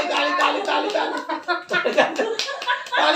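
A small child claps hands a few times at home while adults talk and coax over the top, with light laughter mixed in.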